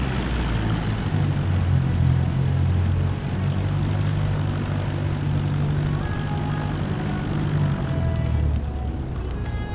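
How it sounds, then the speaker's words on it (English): Cessna propeller plane throttling up for takeoff in Microsoft Flight Simulator 2024, a loud continuous engine drone and propeller buzz that holds steady and shifts pitch slightly near the end. "Cleared for takeoff, runway 17."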